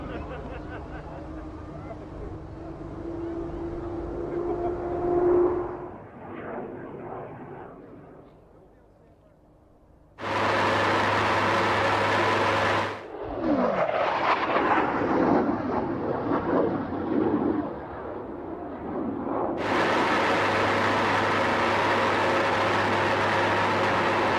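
An F-16 Viper breaking over an airshow crowd, heard as broad, loud roaring bursts of jet noise that swell in, cut out briefly, then return at full strength, with quieter crowd sounds and commentary before the first pass.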